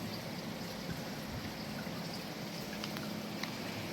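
A garden creek used as natural filtration trickles and streams over a sand, silt and clay bottom, a steady soft wash of water with small splashes, quiet and continuous without any voices.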